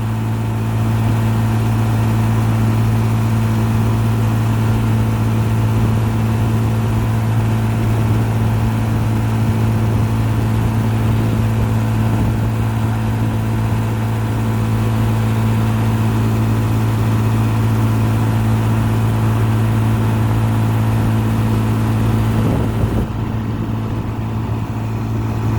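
A 1955 Johnson QD 16 outboard motor runs steadily and loudly for the whole stretch, a constant low droning hum with a strong engine tone and no voices over it.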